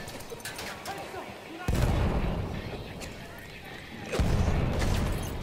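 Two sudden loud blasts from a grenade thrown in a first-person war shooter, each a sharp booming burst with a rumbling tail, set against constant battlefield noise and gunfire.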